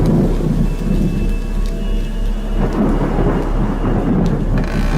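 Heavy rain pours steadily under a thunderstorm, with deep rolling thunder rumbling continuously through the dense hiss of the downpour.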